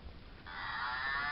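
A voice gives a short, drawn-out moo, imitating a cow, rising after a brief breathy start.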